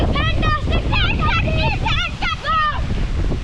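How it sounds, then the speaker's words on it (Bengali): Strong Kalbaisakhi storm wind roars and buffets the microphone in a steady low rumble, with a voice talking loudly over it throughout. "এই যে দেখুন কি বাতাস, এই যে বিদ্যুৎ চমকাচ্ছে গাইস।"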